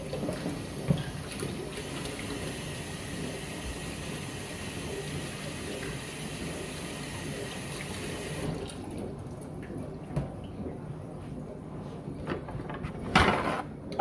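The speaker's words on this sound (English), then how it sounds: "So let me wash my hands." Tap water runs in a steady rushing stream for about eight seconds as hands are washed at a home kitchen sink, then cuts off, leaving quieter handling sounds and a brief clatter.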